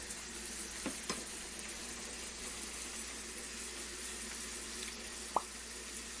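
Carrots fry in a pot as the first step of a meatless fried rice. A faint, even sizzle runs throughout, broken by a few soft clicks and one sharp tap near the end.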